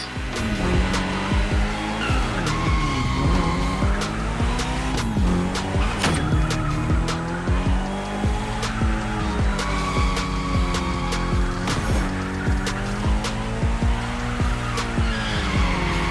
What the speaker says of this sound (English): Go drift, my friend. Go drift to your heart's content.